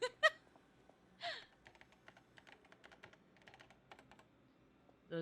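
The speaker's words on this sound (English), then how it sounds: "Those are some quality ASMR typing sounds." Computer keyboard typing, a sparse run of light clicks and short bursts of keys, fairly quiet and close, with no talking.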